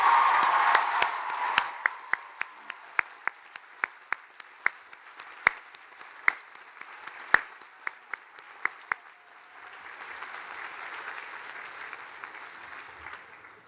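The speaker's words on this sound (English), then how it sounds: "I want you to applaud your families and friends" Large commencement crowd of graduates applauding families and friends at an undergraduate ceremony, a dense steady wash of clapping with sharp louder claps popping out, fading briefly then swelling again toward the end.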